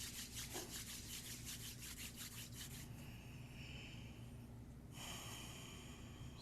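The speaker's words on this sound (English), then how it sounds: "we'll rub our palms together to close" Palms rubbing briskly together during the close of a Kundalini yoga class, a rhythmic rasping swish repeated for several seconds at close range, then a steadier continuous rub over a low background hum.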